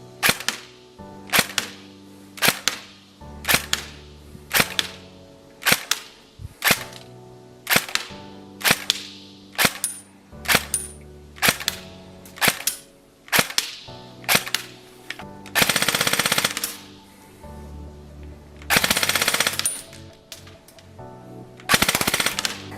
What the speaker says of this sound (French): Test de tir du MP7 à un Tokyo Marui AEP.